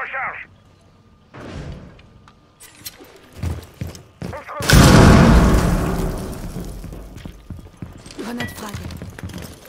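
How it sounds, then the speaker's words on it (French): A frag grenade goes off in a multiplayer video game, one loud booming blast that rolls off over several seconds, with footsteps and clicks before it and voices talking around it. "Grenade frag."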